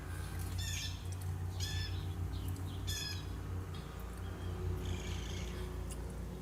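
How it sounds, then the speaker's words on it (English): Outdoors on a clear day in Michigan while fishing, a blue jay gives several sharp, harsh calls at a moderate distance, spaced apart over a steady low background hum. "So that's the blue jay. That's the bird that you're hearing right now."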